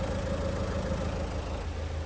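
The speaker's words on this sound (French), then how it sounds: "T'entends ce moteur comme ça tourne rond?" A Renault Kangoo diesel engine idles smoothly and steadily, heard up close with a constant low rumble and even mechanical hum throughout, no voices.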